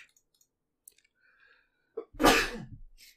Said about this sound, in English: Wow, I never usually sneeze at all.